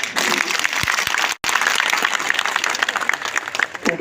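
Loud crowd applause greets National Conference President Farooq Abdullah at a gathering in Ramban, a dense sustained clapping broken by a brief silent cut before resuming just as strongly.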